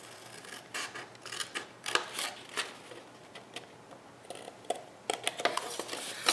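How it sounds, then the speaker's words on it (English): Scissors snipping a small corner tab from a scored paper card box, a series of light, close crisp cuts and paper rustles coming in irregular bursts, fairly quiet with no talk. "So get out your scissors and this little tab in the corner."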